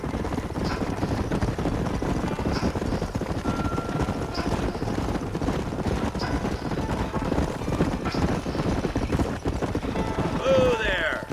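Horses trotting in the Red Dead Redemption video game, a dense rhythmic clatter of hooves on dry ground mixed with rumbling background noise and game sounds, steady and close throughout.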